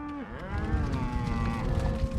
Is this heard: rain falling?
no